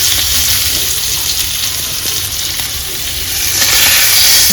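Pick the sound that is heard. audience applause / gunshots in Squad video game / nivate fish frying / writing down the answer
nivate fish frying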